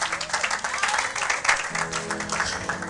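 A church congregation applauding, a dense steady wash of many hands clapping at moderate distance, filling the room with no break and a faint voice underneath.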